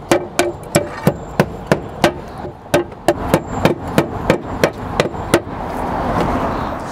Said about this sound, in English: you have one person laying the tiles down and one person behind them just nailing